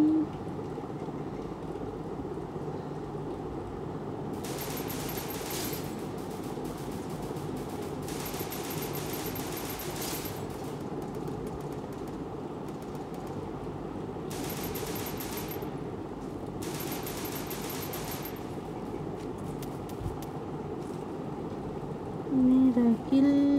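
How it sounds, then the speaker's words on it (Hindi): Gunfire in the mobile battle-royale game Free Fire, heard as several long bursts of rapid automatic shots with steady game background noise and a voice between bursts. "Michael is shooting shooting"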